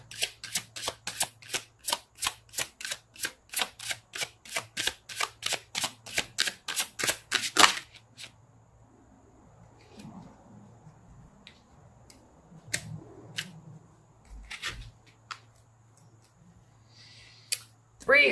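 Tarot cards being shuffled: a steady run of about twenty crisp riffling snaps, close and even, then stopping, followed by a few scattered soft card handling sounds while a voice talks quietly.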